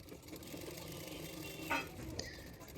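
A sewing machine stitches a hook strip onto a high-neck double katori blouse, giving a steady, close, continuous hum with a couple of brief clicks partway through.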